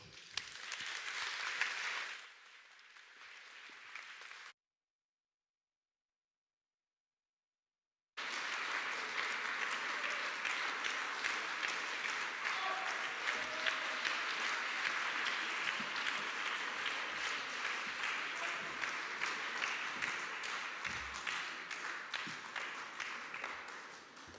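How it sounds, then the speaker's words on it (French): An audience at a library author talk claps briefly, then a gap of silence, then long sustained applause from the crowd fills the rest, steady and loud. "Je vous demande d'applaudir chaleureusement Valérie Lagrange."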